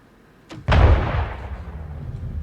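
Ship weapons fire in a space combat game, the Corsair: a brief crack, then a heavy booming blast that rolls off into a sustained low rumble, loud and close, with no talking.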